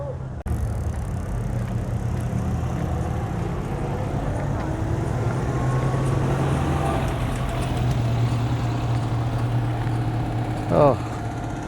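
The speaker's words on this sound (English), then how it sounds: "So here you go, the naked DS going for a drive." A Citroën DS with its body removed driving past at a Citroën centenary gathering in France, a steady low engine drone close by with faint outdoor background noise and a short rattling sound near the end.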